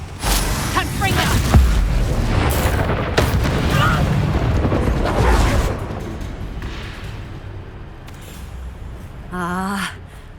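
Fiery Confringo spell explosions in the video game Hogwarts Legacy, several loud booms and blasts packed into the first half amid battle noise, fading to quieter ambience, with a brief voice near the end.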